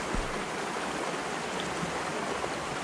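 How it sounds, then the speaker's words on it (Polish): A mountain stream in a river where people are fly fishing rushes steadily and close by, an even broadband wash of flowing water with no voices heard. "Piękny potok."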